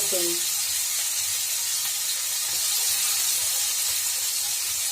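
Chopped onion hisses and sizzles in a pan over a gas flame, a steady frying crackle that stays loud and close throughout, with a short tonal clink at the very start.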